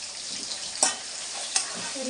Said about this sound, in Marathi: तर इथे पनीर तळून घेते